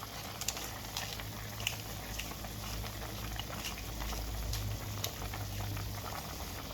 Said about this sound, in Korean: 이제 팍팍 끓이면 이게 꼬리곰탕이에요.